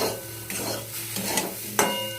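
Turmeric, salt and sugar fry in a pan while being stirred. A soft sizzle runs under several close scraping strokes, with the sharpest scrape near the end.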